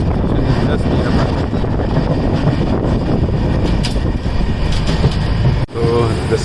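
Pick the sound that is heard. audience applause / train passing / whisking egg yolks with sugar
train passing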